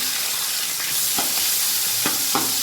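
Onions frying with whole spices such as cardamom, cloves and cumin for biryani make a loud, continuous sizzle and hiss, broken by a few scraping stirs of a spoon, ending abruptly.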